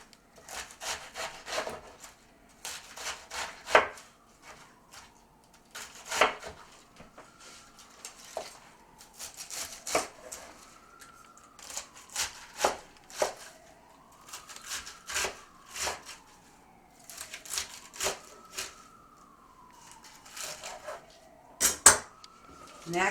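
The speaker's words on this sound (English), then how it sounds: "I'm going to chop that up." Half a head of iceberg lettuce being chopped with a knife on a board, a steady run of crisp repeated cuts in quick bursts with brief pauses, close and fairly loud, no talking.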